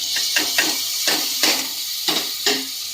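Steady sizzling hiss as tomatoes hit a hot pan of ginger-garlic paste for biryani, with repeated soft stirring scrapes every half second or so, close and continuous.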